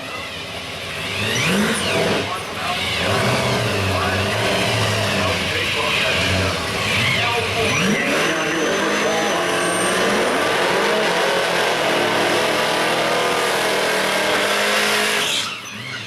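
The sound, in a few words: pro street drag race cars launching down the track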